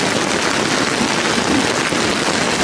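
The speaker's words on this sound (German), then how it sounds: "Der Regen muss weg, das ist richtiger Starkregen." Heavy downpour during a thunderstorm at night, a steady dense hiss of rain filling the whole clip at constant loudness, close and continuous with no voices.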